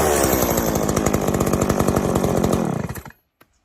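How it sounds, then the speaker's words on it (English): A chainsaw engine revs loudly nearby with a buzzing, rattling drone, then cuts off abruptly and winds down to silence. "I thought I would show you my chainsaw."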